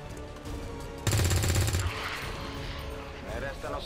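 Gunfire in the video game XCOM 2, a rapid burst of three shots sounding together for under a second amid game ambience, with talk before and after.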